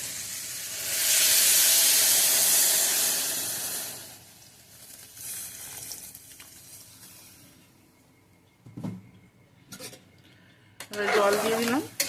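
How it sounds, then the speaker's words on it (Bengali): Water poured into a hot pan of sautéed onions and spices for ghugni hisses and steams loudly for a few seconds, then fades into quieter clinks and scrapes of a utensil against the pan. "এবারে জল দিয়ে দেবো।"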